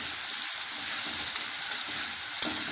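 Finely chopped tomato frying in a pan for veg masala oats, a continuous hissing sizzle at moderate level with faint stirring touches and one brief clink near the end.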